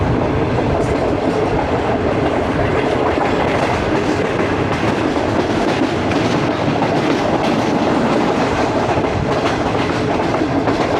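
A passenger train on the Rohri–Lahore line in Pakistan rolls over the rails with a continuous dense rumble and rhythmic clickety-clack, close and loud, with no talk.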